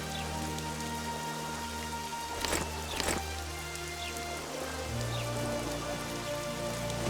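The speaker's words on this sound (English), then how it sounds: "It's raining." Rain falling in The Witcher 2: Assassins of Kings, a continuous steady hiss of rain on surfaces over a low humming ambient drone, with a couple of faint knocks and no speech.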